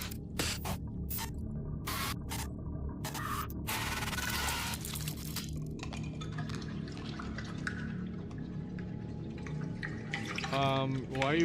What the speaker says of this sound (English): Why are you pouring fuel on torpedoes?